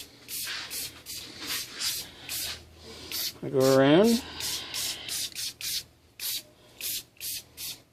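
Rhythmic short bursts of spray paint hiss lightly over a prop shield, about a dozen even puffs close to the microphone. A voice speaks briefly midway between the bursts.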